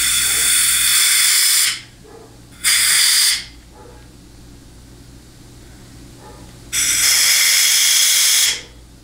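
Compressed air hisses into the fourth-gear accumulator circuit of a 700R4 transmission case: three loud, sharp bursts of a few seconds each, separated by quiet gaps.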